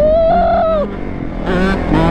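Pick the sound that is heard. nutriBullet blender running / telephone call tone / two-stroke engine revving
two-stroke engine revving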